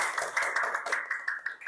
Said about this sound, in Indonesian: Tepuk tangan untuk Mas Daniel